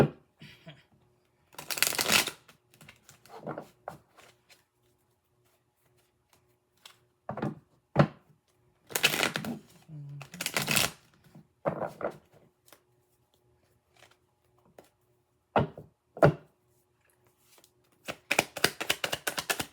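A tarot deck is shuffled and split in repeated quick riffling bursts of cards, close and crisp, separated by quiet gaps, with faint taps and card handling between them.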